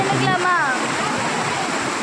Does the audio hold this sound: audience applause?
no